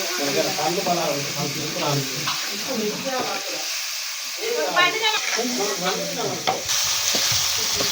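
Ginger frying in oil for a Kamati-style chicken curry, with steady sizzling and stirring running throughout, close and fairly loud, while someone talks over it for most of the time.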